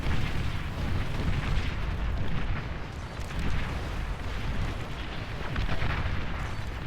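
Explosions from tanks and bombers destroying a base in the real-time strategy game Beyond All Reason roll on as a continuous, loud, low rumbling barrage with overlapping booms and no talk.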